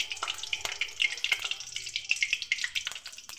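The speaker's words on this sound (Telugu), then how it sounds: "ఫస్ట్ ఆయిల్ వేసుకోవాలి, తర్వాత పచ్చిమిర్చి వేయాలి" Green chillies crackle in hot oil at the start of a spinach-tomato curry, with sharp, irregular pops and spits over a soft sizzling hiss, close by and fairly quiet, with no voices.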